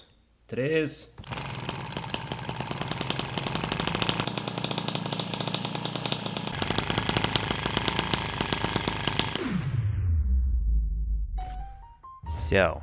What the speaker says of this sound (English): here's a beautiful slow motion shot of the transparent engine working